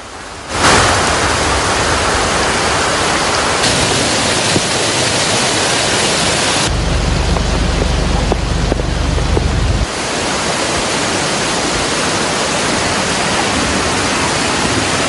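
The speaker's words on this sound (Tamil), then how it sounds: "கடும் மழையால் களுத்துறை அகலவத்தையில் உள்ள பல இடங்கள் என்றும் நீரில் மூழ்கி காணப்பட்டன." Heavy rain pours on flooded ground in Kalutara, Sri Lanka, a loud, constant roaring wash of water that shifts in intensity partway through, with no voices.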